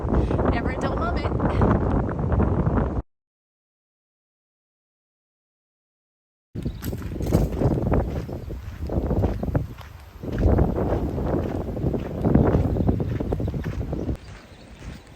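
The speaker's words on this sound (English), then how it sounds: "That was the most wind, like the strongest wind we have ever experienced in our lives." Strong gusting wind buffets the microphone on an exposed cliffside stretch of the Pacific Crest Trail near Mission Creek, California, a loud, roaring wash broken by a few seconds of dropout and then resuming at full force.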